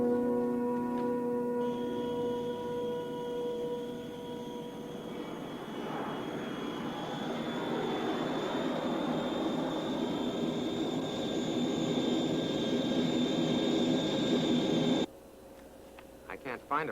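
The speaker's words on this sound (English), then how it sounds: "There's people boarding the Bel Air TriStar jet." Jet engines of a Lockheed TriStar airliner whine and roar steadily for about fifteen seconds, a loud continuous drone with a high whistling tone on top that cuts off abruptly near the end.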